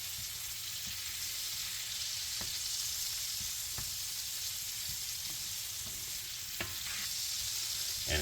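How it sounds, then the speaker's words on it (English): Butter melts in a skillet with a constant even sizzle and hiss, close and steady, broken only by a few faint utensil ticks. "that's what you're doing, melting this butter first"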